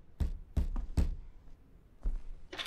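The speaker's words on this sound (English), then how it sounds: "those footsteps or someone knocking on the door again" Knocking on a door in the Hazing horror video game: a few heavy, dull thuds in an uneven cluster, then another knock after a pause, close and without voices.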